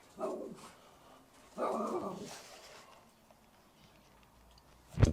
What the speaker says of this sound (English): The dog's coming out.